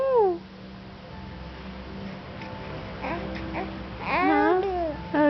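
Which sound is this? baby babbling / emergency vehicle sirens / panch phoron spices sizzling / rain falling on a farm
baby babbling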